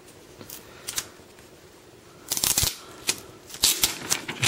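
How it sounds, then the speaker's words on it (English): Protective plastic film is peeled off an HTC 7 Pro phone handset, giving quiet crinkly rustles and a few sharper crackling bursts up close, with no talking. "we'll just peel off the protective plastic."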